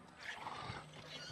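A pet dinosaur in the video game Robinson: The Journey gives a faint, breathy roar that rumbles steadily for a moment under a noisy game soundscape.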